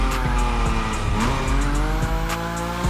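A Nismo car drifts in The Crew Motorfest, its engine roaring loud and constant while the tires squeal in a continuous skid, with higher whines rising and falling throughout.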